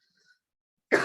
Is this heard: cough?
yes